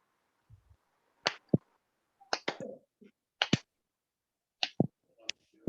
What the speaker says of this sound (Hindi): देखो पहले हम एक फिंगर से ताली देंगे